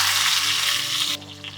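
Green chillies, mustard seeds and fenugreek sizzle hard in hot oil for a Marathi tempering, a loud close crackle that drops off sharply partway through.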